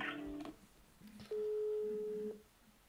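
A single steady electronic tone over a mobile phone line, about one second long, following a faint recorded voice, thin and quiet with line hiss underneath.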